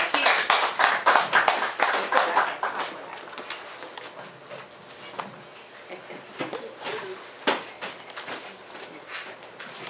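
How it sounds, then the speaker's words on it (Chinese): An audience at a farming talk claps to welcome a farmer, a burst of brisk clapping that thins into scattered, uneven claps over about ten seconds. "请大家掌声欢迎他"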